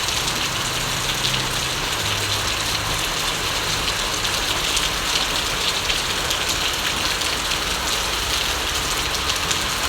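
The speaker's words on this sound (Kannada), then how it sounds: "ಮಳೆಯನ್ನು ನೋಡೋದು ಕೂತ್ಕೊಂಡು" Steady heavy rain falling on surfaces outside a family home, a dense even hiss with a low hum underneath, no voices.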